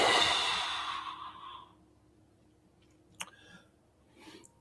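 A long, deep exhale during guided meditation, breathy and close, fading away over a couple of seconds, then near silence broken only by a small click and a faint breath.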